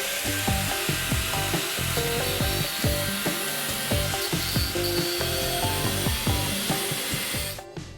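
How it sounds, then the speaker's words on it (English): Wood pieces for a boat galley subframe are cut close up in a steady run of rasping, sawing strokes with sharp repeated bursts. No one speaks, and the sound cuts off abruptly just before the end. "Alright, I've cut all the pieces and grinded down what I need to so far."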